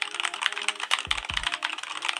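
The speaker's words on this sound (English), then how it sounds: "I got this keyboard from Keycool." Rapid clacking of keys on a Keycool gaming keyboard, a dense run of close, crisp key strikes with no voice over them, plus a couple of brief low thumps partway through.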